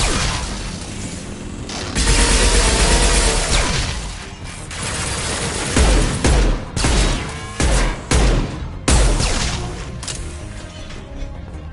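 Chaotic Mass Effect 2 firefight with rapid gunfire and sharp heavy impacts, loud and close, a steady barrage breaking into a string of punchy separate shots toward the end.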